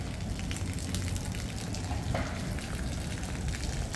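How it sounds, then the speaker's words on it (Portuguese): Steady rain falls over an outdoor festival square in a Brazilian fishing town, a continuous dense hiss of drops close by with no voices over it. "Chovendo, cara."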